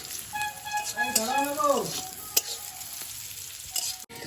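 Bitter gourd frying in a pan on a home stove, giving a soft, steady sizzle close by with a few light stirring clinks, while a voice briefly rises in a sliding, wavering tone over it.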